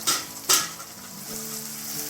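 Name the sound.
frying omelette masala with tomato in a pan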